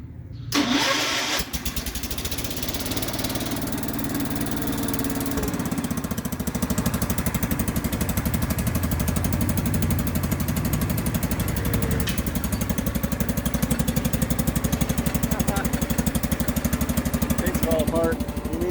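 Engine on a homemade ride starts with a sharp crank and catches, then runs steadily at a rough, loud idle with a continuous mechanical rattle for the rest of the clip.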